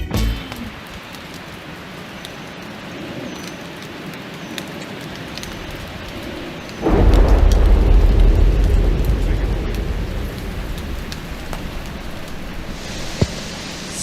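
Rain falls steadily on a soggy grass lawn, and midway a deep low rumble of thunder swells and slowly fades beneath the patter, with a couple of sharp drips near the end.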